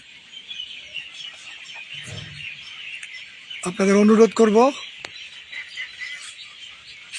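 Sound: birds calling

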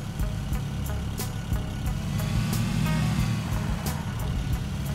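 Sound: car driving in a video game

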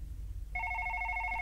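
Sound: telephone ringing in a horror video game

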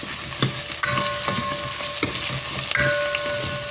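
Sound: radish added to frying onions for fish curry

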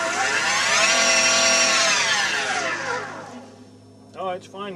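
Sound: Solectria permanent magnet electric motor running

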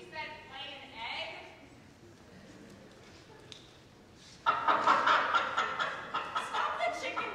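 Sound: people imitating chicken noises in a school play

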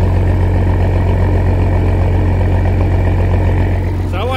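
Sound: Massey Ferguson 760 tractor engine running

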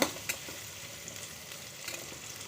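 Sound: sautéing in a pan for sambar

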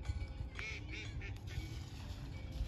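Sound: ducks quacking

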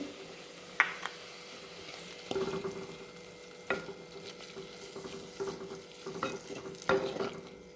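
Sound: coconut, onion, garlic and ginger paste frying in pan

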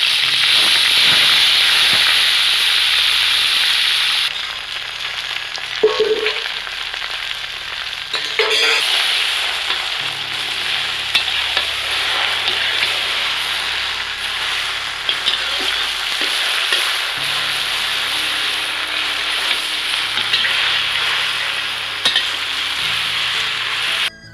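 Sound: frying taro leaves with dried chillies and garlic

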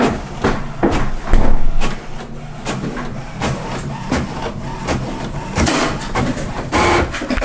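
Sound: HP Officejet Pro 8025e scanner scanning a document

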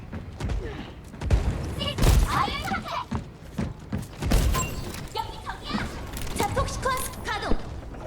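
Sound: gunfire in a video game

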